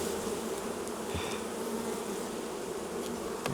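Honey bees swarm around an open, crowded hive during an inspection, a dense steady buzzing close to the listener and even throughout, no talk.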